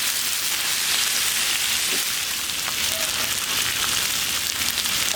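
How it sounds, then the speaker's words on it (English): A steady, dense crackle of bacon sizzling on a hot Blackstone griddle, continuous and fairly loud with no voices. "Ah, the bacon sizzle."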